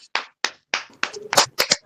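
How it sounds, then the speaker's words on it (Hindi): A church congregation gives loud applause for a worship song, clapping arriving in a few sharp bursts that thicken into overlapping hand claps toward the end, close and dry. "और ऊंची ताली देंगे इस वर्शिप के लिए सभी।"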